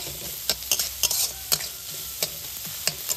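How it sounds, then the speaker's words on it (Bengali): Chopped onion and green chilli frying and being stirred in a pan, with a steady background sizzle broken by about eight sharp, close scraping strokes of the spatula at uneven intervals, no voices. "এই সব কিছু উপকরণ ভালো করে ভেজে নেব"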